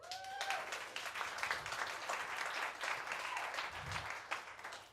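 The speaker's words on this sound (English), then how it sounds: "You already did clap for that" A comedy club crowd claps steadily after a comedian's remark about getting clean and sober, a dense, fairly distant wash of hand claps lasting several seconds.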